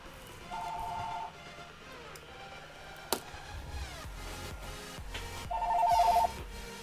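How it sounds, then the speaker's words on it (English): An electronic telephone ringtone sounds twice, each ring lasting under a second with a long gap between, over a steady busy background bed, with no talking. "Telephono ringing"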